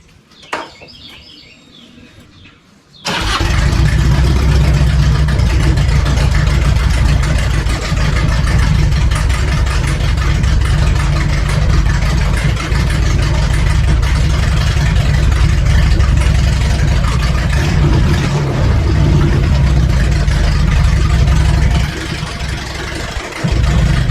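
A reconditioned fuel-injected motorcycle fires up after a brief quiet start, then settles into a loud, steady close-up idle that runs on evenly for about twenty seconds and eases slightly near the end.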